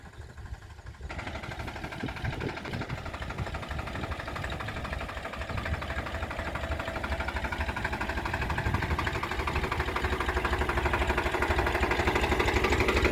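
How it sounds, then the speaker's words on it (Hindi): A Farmtrac 45 tractor engine runs steadily at a low idle-like pace while spraying a sugarcane field, its hum growing gradually louder as it comes closer, with no talking. "ट्रैक्टर द्वारा स्प्रे की जा रही है गन्ने में।"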